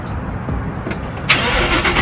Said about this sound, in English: As soon as I start this thing up,